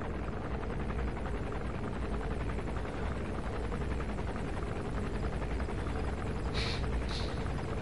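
A helicopter's rotor in Metal Gear Solid V drones continuously at close range, a steady buzzing thrum with a couple of brief high chirps near the end.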